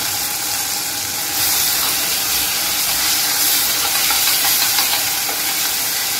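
A pan of ginger, garlic and green chilli paste sautéing with tomato, giving a steady, loud broadband sizzle and hiss that swells after the first second and carries on without talk.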